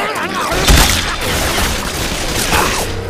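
Bursts of gunfire and booms in the zombie shooter Left 4 Dead 2, loud and chaotic with a heavy hit near the start and another later, mixed with shouting voices.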